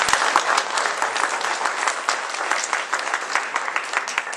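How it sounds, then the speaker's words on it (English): A crowd at an Independence Day music performance gives a big round of applause for a performer, with dense, sustained clapping throughout that swells slightly at the start and stays even and lively. "Give a big round of applause to Satish."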